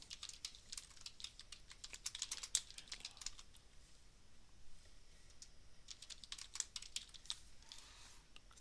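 Quiet, quick clatter of keys as text is typed on a computer keyboard, steady bursts of taps with short pauses, close and alone.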